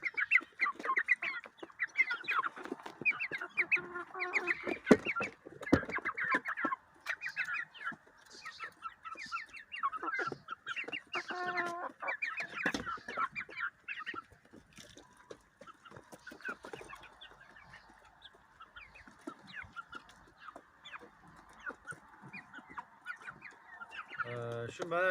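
Chickens and young chicks cluck and chirp steadily and fairly close on a farm, a recovering chick among them, with occasional low speech and brief louder bursts mixed in.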